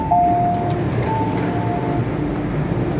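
Standing at Sai Wan Ho station, a metro train rumbles steadily nearby while two tonal, whistle-like beeps ring out one after another, with continuous rail noise underneath.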